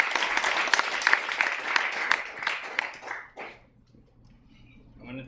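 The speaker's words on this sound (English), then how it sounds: "let's give a warm round of applause to the one and only Tao Lin" A reading audience applauds to welcome author Tao Lin: dense, steady clapping for about three seconds that quickly dies away into near silence, with a few scattered claps at the end.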